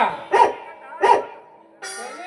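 A voice imitates the yelping of a female dog: two sharp, close yelps followed by a longer, steadier cry, loud and near.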